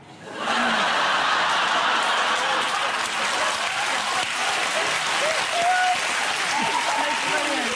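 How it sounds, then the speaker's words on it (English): Studio audience on a talk show applauding steadily for about seven seconds after a brief quiet start, loud and dense, with scattered laughter and a voice or two underneath. "Why are we clapping for that?"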